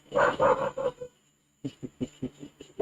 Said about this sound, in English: quit your barking, boy.